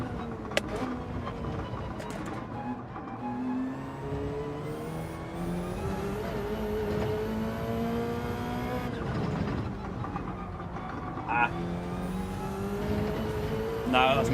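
A race car from Gran Turismo 7 laps a track, its engine whining and rising through gears, with shifts and changing pitch over a steady tyre and road roar, while someone talks over it.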